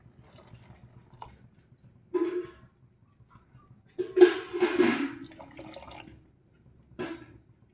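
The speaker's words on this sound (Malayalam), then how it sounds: "നമ്മൾ കുറച്ച് വെള്ളം കൂടെ ആഡ് ചെയ്യുവാന്നേ." Water is poured in short splashing bursts into a pan of roasted vermicelli and condensed milk for payasam. One longer pour comes in the middle, with quiet gaps between the pours.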